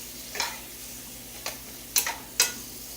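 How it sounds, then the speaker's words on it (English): Spatula stirring food in a pan of hot coconut oil, giving four or five short scraping strokes over a soft background sizzle, close and fairly quiet, with no talking. "Give this a quick stir while it mixes in with the coconut oil"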